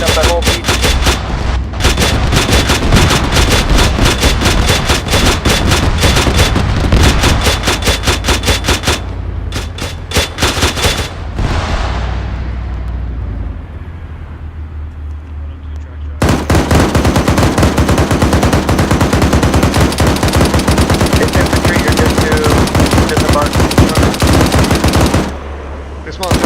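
Sustained bursts of machine gun fire sweep a beach during joint platoon training, loud and continuous with brief pauses, a lull in the middle before heavy firing resumes.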